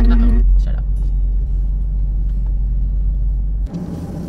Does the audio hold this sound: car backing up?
yes